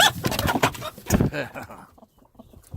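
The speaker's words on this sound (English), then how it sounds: "rooster's getting a little feisty over here" A rooster clucks and squawks excitedly up close, with a person talking over the calls.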